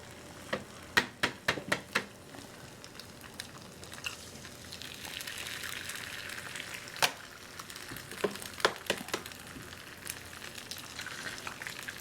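Eggs sizzle and spit in a hot skillet, a steady frying hiss broken by sharp crackles and pops, with bursts of loud spattering near the start and again toward the end; no voices.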